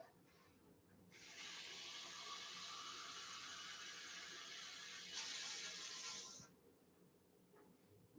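Water runs and pours steadily into a cup while measuring 1.5 cups for a Thanksgiving cooking recipe, a close, continuous hiss of about five seconds that starts and stops abruptly, with no talking.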